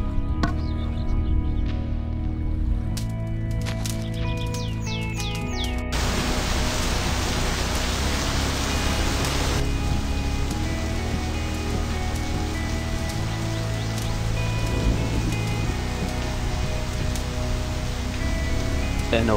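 Steady rain pours in the video game My Summer Car, a dense continuous hiss of drops on surfaces with faint game sounds underneath, no voices.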